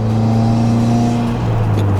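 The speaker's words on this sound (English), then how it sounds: "The intake, still like I said before, it's so noticeably loud." Engine of a 2016 Subaru WRX with a loud intake, a steady close-up drone that holds level and then rises sharply in pitch at the end as it revs.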